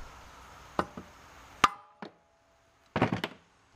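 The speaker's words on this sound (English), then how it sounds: "First I want to bump the crankshaft with this heavy soft blow hammer." Several dull thuds from a heavy soft-blow hammer striking a Kohler engine crankshaft on a Wheel Horse 704, scattered irregularly with a quick cluster of blows near the end, in a quiet space.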